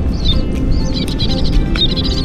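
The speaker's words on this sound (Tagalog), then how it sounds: "Kung maririnig nyo po yung mga ibon, yan po yung mga nanginginain po ng mga mga isda." Birds hunting fish over an abandoned fishpond in Taiwan give quick, high chirping calls, several short bursts scattered over a constant outdoor rumble.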